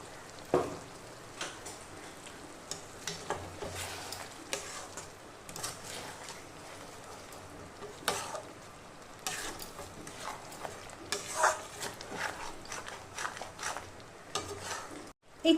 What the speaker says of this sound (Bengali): এবার আমি এর মধ্যে দিয়ে দিচ্ছি এই কাজু বাদাম আর শুকনো লঙ্কার পেস্ট দিয়ে এটাকে ভালো করে এখন কষাবো